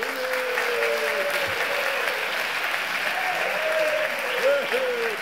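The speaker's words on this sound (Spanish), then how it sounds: "Demos un fuerte aplauso a nuestro invitado" A conference audience gives a sustained round of applause for architect Solano Benítez, a dense steady wash of clapping from many hands in a hall, with voices talking over it.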